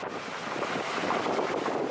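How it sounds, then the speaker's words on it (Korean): Rushing water from a 55-metre waterfall on a K2 base camp trek forms a steady, broadband roar, loud and continuous with no voices. "본능적으로 폭포 소리를 따라갑니다."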